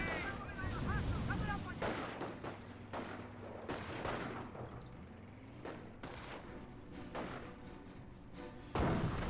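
Company of Heroes battle with a mortar half track firing among bursts of gunfire, repeated loud booms and rattling shots spread across the scene, some close, with someone talking over the combat.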